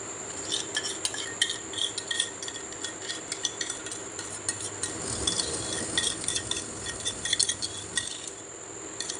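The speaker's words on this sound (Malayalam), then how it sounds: "ഇനി ഇതിലേക്ക് നമുക്ക് ആ മിക്സികളും കൂടി ഇട്ട് കൊടുത്തിട്ട് നന്നായിട്ടൊന്ന് യോജിപ്പിച്ചെടുക്കാം" A spoon stirs a multani mitti mixture into melted soap base in a pan over low flame, giving steady close scraping and soft clinks against the vessel alongside a faint sizzle.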